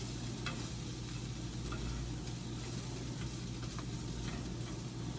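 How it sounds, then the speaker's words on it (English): Mushrooms brown in a kitchen pan with a dense, steady sizzle and faint occasional ticks of stirring, close and continuous, with no talking. "Let's see how these mushrooms are browning up."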